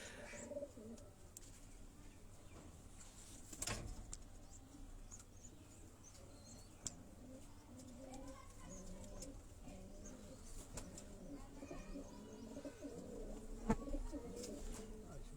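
Pigeons coo softly on a rooftop loft among many neighbouring roofs, with repeated low, rolling calls, faint chirps and scattered clicks over a quiet background.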